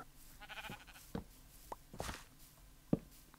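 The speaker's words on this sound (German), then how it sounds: "Da unten sind auch Schafe!" Minecraft sheep bleat a few times in the game world, short, faint calls scattered over a quiet background with some light clicks in between.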